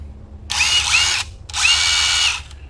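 Two bursts of a Craftsman 20V Max brushless cordless impact driver whirring at high speed, each lasting under a second, loud and close with a short pause between them.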